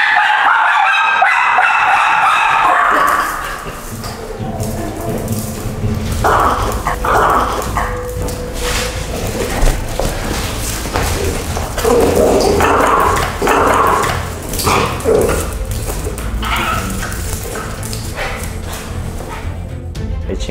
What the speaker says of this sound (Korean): 이 친구가 막 짖길래